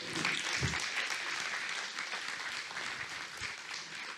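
Church congregation clapping together during a Sunday service, a steady wash of applause that holds evenly through the whole moment without voices.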